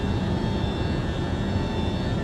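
Boeing 727 jet engines climbing out after takeoff in Microsoft Flight Simulator, a steady, loud, broadband roar with no gaps that holds at an even level the whole time, with no talking.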